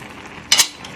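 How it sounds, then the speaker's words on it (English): A spoon scraping and clinking against a pot of Ghanaian rice porridge, one brief bright metallic stir stroke over quiet kitchen background. "Now we are going to stir it, and our rice porridge or our rice pudding is done."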